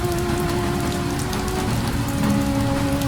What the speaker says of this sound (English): Let it match the rhythm of the rain against the glass, soft and steady.